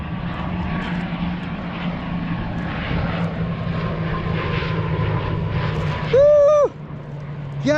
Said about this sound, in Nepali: हवाई जहाज